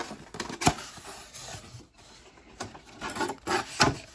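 Filter being pulled out of a portable air conditioner, with close plastic scraping and rubbing, several sharp clacks and rattles in uneven bursts.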